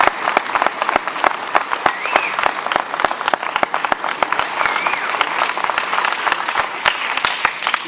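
A crowd applauds steadily, dense clapping from many hands with no break, a full room's worth of sustained applause.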